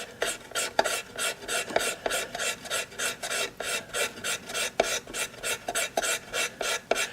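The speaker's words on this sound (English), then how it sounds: "my perfect tool at the moment is this X-Acto knife. And what I do is I scrape it like this" An X-Acto knife scrapes the wooden surface of a fiddle in steady, rhythmic rasping strokes, close and distinct, about two or three per second with small clicks between passes.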